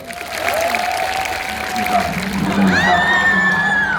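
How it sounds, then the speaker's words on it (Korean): An audience at a Korean stage event gives a big round of applause, a steady, dense clatter of clapping lasting about four seconds, with some whistle-like tones rising near the end. "큰 박수 보내주세요."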